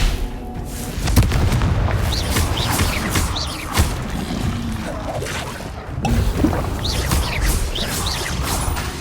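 Repeated explosive Confringo spell blasts from Hogwarts Legacy, loud booming impacts with crashing debris and magical whooshes layered over combat effects, several blasts in quick succession with no pause.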